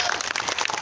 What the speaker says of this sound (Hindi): ताली होनी चाहिए सभी के हाथों से